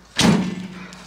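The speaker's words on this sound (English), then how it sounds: "So you can open the back doors." A single solid thump as a van's rear doors swing open, a short thud with a brief metallic ring that decays quickly, close and alone.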